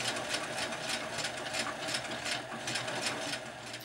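A sewing machine stitches a 1950s dress in a steady run, its rapid mechanical whir and needle clatter close and continuous, with no voices.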